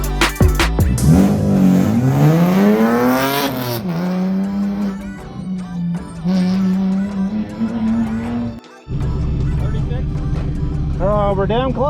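A BMW 128i on an autocross run revs hard through the gears, its engine pitch sweeping up and down close by with tire squeal, under a driver talking over it.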